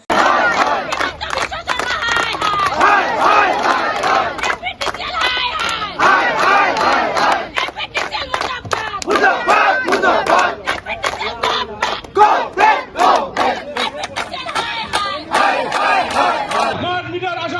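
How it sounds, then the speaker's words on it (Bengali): Congress workers at the APDCL office in Silchar chant protest slogans against smart meters, a loud crowd of voices shouting in rhythmic unison for the whole stretch. "বিজেপি মুর্দাবাদ হিমন্ত বিশ্ব শর্মা মুর্দাবাদ স্লোগান দিয়ে এপিডিসিএল কার্যালয় কাঁপিয়ে তোলেন"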